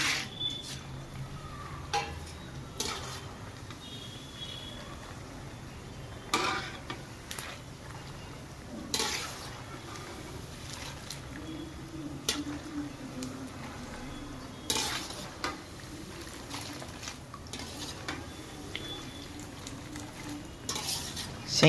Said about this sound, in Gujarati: સિંગદાણા, કાજુ, બદામ તળતા હોય એટલે આવી રીતે તળિયેથી હલાવતું રહેવાનું, એટલે બળે નહીં.